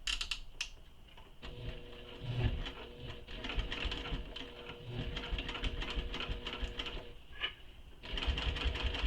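A sewing machine back stitches and then runs along the side seam of a handmade bag, giving a continuous close mechanical chatter and hum with small shifts in pace, without talking.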